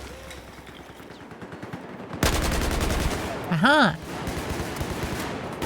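An AK-12 rifle in the Battlefield video game fires a loud, rapid burst of automatic shots that fills the middle of the clip. A voice briefly exclaims over the gunfire, and quieter game noise continues before and after.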